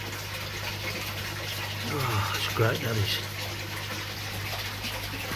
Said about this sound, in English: So what I'm going to do, I'm going to give them a water change now